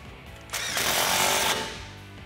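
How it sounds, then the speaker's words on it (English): A power tool briefly tightens an exhaust clamp on an F150 dual exhaust system, a loud, close whirring burst of about a second that rises sharply and then fades. "All right, so we're gonna tighten that guy down."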